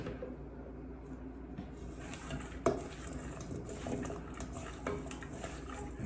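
Cauliflower tossed with olive oil and seasoning in a bowl, heard as faint scraping, soft patter and clinking of a utensil against the dish, with one sharper knock.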